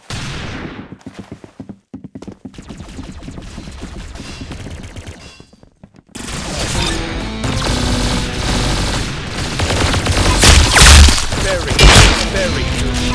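Gunfire in the video game Arsenal: dense automatic bursts and thudding shots, quiet and sparse at first, then a loud, continuous barrage from about six seconds on, with game sounds layered underneath.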